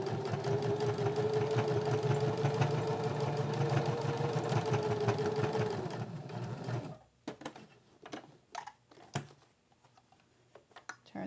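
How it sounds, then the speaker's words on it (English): A sewing machine stitches across elastic on a small pocket pen holder, a loud continuous whirring run for several seconds, then stops into short bursts of back-stitching and handling clicks. "when I stitch, I'm going to stitch across and then back stitch to help secure that elastic"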